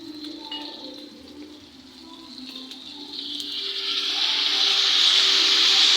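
Food fries in a pan as a little soy sauce goes in, and a soft sizzle swells into a loud, steady hiss, heard close up without talk.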